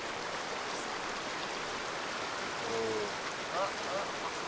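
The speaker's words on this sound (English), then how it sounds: "Look at the fucking rain sound on there." Steady rain hiss with rushing water beneath, fairly distant, with a faint tonal call near the end.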